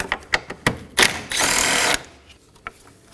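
Power tool whirring as 10mm bolts are removed from the upper bumper support of a 2015-2023 Nissan Maxima, with a sustained motor burst of about a second following several short clicks and taps, close and alone.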